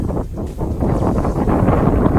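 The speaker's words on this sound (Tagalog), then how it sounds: "Sobrang hangin." Strong wind on a hilltop in Tagaytay buffets the microphone in a steady, heavy rumble that swells slightly partway through, with no voices.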